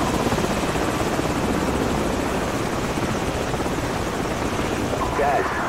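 Enemy helicopters in Call of Duty 4: Modern Warfare thrum loudly and steadily with a constant rotor roar, with a voice speaking over the noise.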